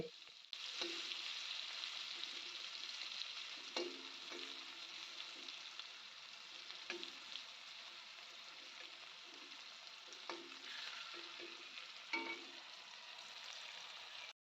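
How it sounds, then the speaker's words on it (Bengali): Bitter gourd bhaji fries in a pan with a steady, close sizzle, broken every few seconds by the scrape and clatter of stirring. "এই দেখো ভাজিটা হয়ে যাচ্ছে বেশিক্ষণ লাগবে না আর একটু নাড়াচাড়া করলেই হয়ে যাবে"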